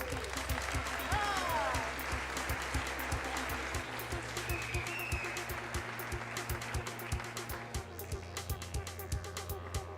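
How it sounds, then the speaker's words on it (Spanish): An audience at a Nerd Nite talk in Santiago applauds a speaker, with moderate scattered clapping over a low hum in the room, while voices and some louder claps come through. "démosle un aplauso"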